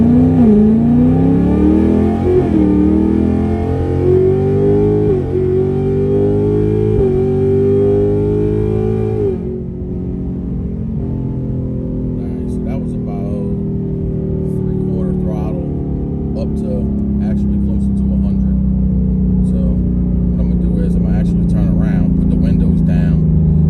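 A 2024 Mustang GT V8 with Kooks green cats accelerates hard with the windows up, engine note climbing through rising gear pulls with brief shift dips, then settling into a steady loud cabin drone.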